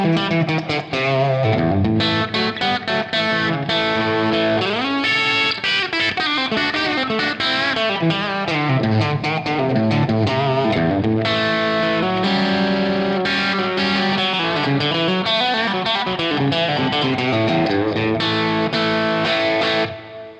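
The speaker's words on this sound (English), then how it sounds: "it's a nice compressor for that country twang type of sound" An electric guitar through a Wizard Crunch compressor pedal plays a twangy, compressed country-style riff with even, punchy sustain, loud and continuous for about twenty seconds, no voices.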